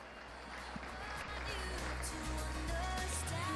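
Steady, fairly faint crowd applause at a Limousin cattle show for the prize-winning bull and its owners, a continuous wash of clapping that builds slightly.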